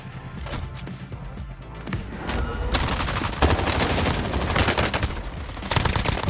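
XM4 assault rifle fire in Call of Duty Warzone, rapid bursts of automatic gunshots that grow louder and denser, with overlapping shots and heavy repeated cracks through most of the stretch.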